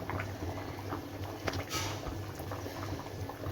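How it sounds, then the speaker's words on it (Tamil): Mutton podi curry boiling steadily in a pot, a continuous close bubbling and popping simmer with no voices over it. "நல்லா கொதி வந்துருச்சு"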